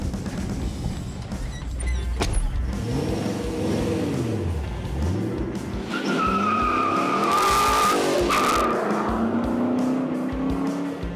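A Chevy C-1500 pickup truck's loud engine revs and accelerates hard on a race track, rising in pitch through gear shifts, with squealing tires and a vehicle roaring past nearby.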